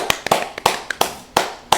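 About eight sharp, loud hand claps in a quick uneven rhythm, one person clapping enthusiastically and close up.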